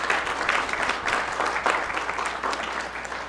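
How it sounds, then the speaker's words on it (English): Audience at a county commission meeting applauding, a steady dense wash of clapping held at an even level throughout, with no speech over it. "they deserve a round of applause for being creative"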